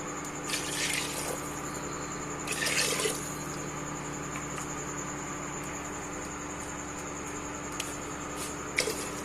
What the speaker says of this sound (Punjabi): ਹੁਣ ਇਸ ਵਿੱਚ ਪਾਵਾਂਗੇ ਪਾਣੀ